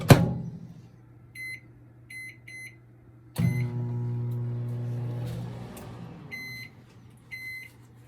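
Microwave oven heating halwa for one minute: a door clunk, a steady low hum with repeated triple beeps, the hum restarting after another clunk, then final beeps.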